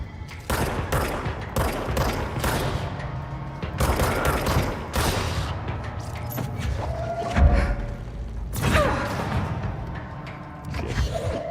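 Video game gunfire crackles in loud repeated bursts with heavy thuds and whooshes, the shots clustering in rapid volleys across the scene.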